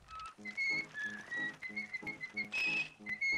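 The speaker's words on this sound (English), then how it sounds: "a flickbook animation of Mickey Mouse, whistling." Mickey Mouse whistles a bouncy tune in the flickbook animation of the Walt Disney logo, a bright, steady melody of short held notes over a plucky music backing.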